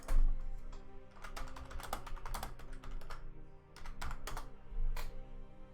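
Continuous computer keyboard typing with rapid, uneven clicks and key bursts that run throughout, close and fairly clear, with no talking.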